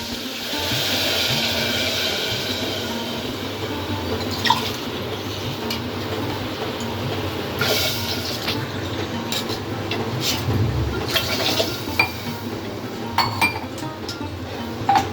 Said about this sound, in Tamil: அதே கிளாஸால் 2 கிளாஸ் தண்ணி எடுத்துக்கணும்